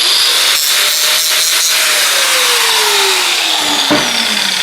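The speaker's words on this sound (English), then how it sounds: "If it sparks when you hit it with the grinder, it's steel." An angle grinder bites into a steel part from a scrapped fridge compressor, throwing sparks: a loud, continuous metallic whine that rises and falls in pitch with a few brief cuts and a thump near the end.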